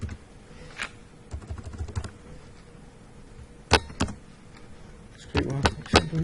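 Clicks of typing on a computer keyboard while editing a shared document, a few scattered keystrokes early on and a quicker burst of taps near the end, close and moderately loud over a quiet room hum.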